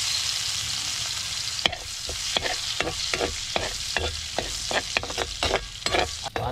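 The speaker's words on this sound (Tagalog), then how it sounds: "igigisa na yung sibuyas at bawang" Onion and garlic sautéing in a pan for a home-cooked lunch, a constant close sizzle broken by a dozen or so sharp scraping strokes of a spatula at an uneven rhythm.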